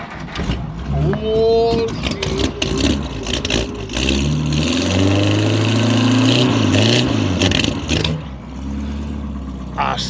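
An old, cold-natured car engine cranks, catches and is revved several times, rising and falling in loud, close bursts while someone talks briefly over it.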